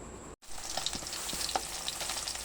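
Salmon belly deep frying in hot oil, a steady close crackling sizzle with scattered pops and spits after a brief silent break at the start; no voices.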